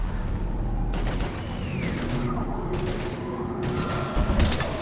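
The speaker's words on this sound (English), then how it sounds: "We're taking heavy fire." Gunfire in Mass Effect 3 during a heavy firefight against Husks. Several loud, overlapping bursts of shots rise and fall over a constant rumble of battle noise.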